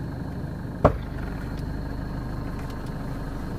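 A car engine idles steadily on a dark road, a low, continuous rumble with one sharp click or knock near the start and no speech.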